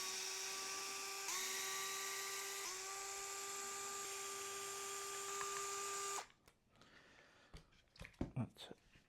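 A powered driver backs screws out of the chassis brace on a Traxxas Nissan 240SX 4TEC RC drift car, giving a steady high motor whine with brief pitch dips for about six seconds, then quieter small clicks and handling noises.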